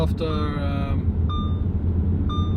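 An Audi A6 C6 Quattro Avant's warning chime beeps a few times at steady intervals over the low rumble of the moving car.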